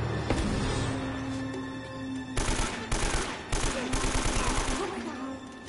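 Gunfire in Uncharted, rapid bursts of automatic shots in clusters over a rumbling game soundtrack, loud and close, with a voice briefly heard.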